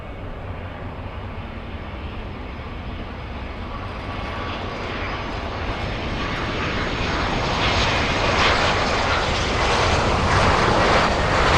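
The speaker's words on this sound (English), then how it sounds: "We're going to go for the next arrival. It's a small A319." An American Airlines Airbus A319 jet arriving at Miami International Airport roars in as a broad engine rush that grows steadily louder as it approaches, with no talk over it.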